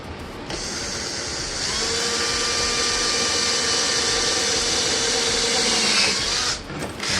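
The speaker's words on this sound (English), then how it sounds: "I like using the stepper bit for this because it was a really clean opening" Drill with a stepper bit boring a hole through metal for a speaker in a 1950 Buick build, a steady close whirring grind that starts abruptly, rises and holds for several seconds, then cuts off, with no talk.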